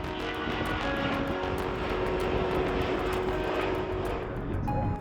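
A close, loud, steady roar of an airliner's engines on runway 33 at Düsseldorf, holding a constant rumble with a whining tone throughout and no speech.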